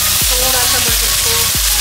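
Onions fry loudly and steadily in hot desi ghee and oil for mutton bhuna masala, a dense close sizzle broken by three rhythmic scraping stirs.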